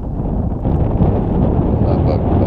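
Strong gusty wind on a lake, caught from a canoe during spring fishing, roars steadily against the microphone as a dense, close, low rumble that swells slightly but never lets up.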